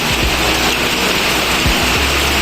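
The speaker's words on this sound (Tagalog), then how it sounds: "Grabe. Ulan lang ulan." Heavy typhoon rain pours down outdoors behind a house in a steady, loud roaring hiss, with a couple of low thuds and no speech.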